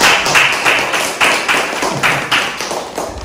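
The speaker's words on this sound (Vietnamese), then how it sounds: "Xin đại chúng cho một tràng pháo tay" Clapping at a Buddhist ceremony talk, a run of fairly loud, rhythmic claps at regular intervals, close and distinct rather than a dense roar.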